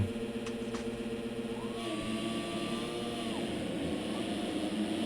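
Motocross bikes in MX Simulator rev together at the start gate before the drop: a quiet, steady engine drone with one rising and falling whine of revs, and the pack of engines holding a continuous buzz to the end.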